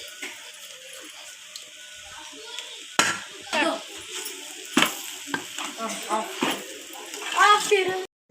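Fried vegetables, cauliflower and rice stirred together in a home kitchen pan, giving a soft steady sizzle with repeated scraping clinks of the spoon against the metal while someone talks throughout.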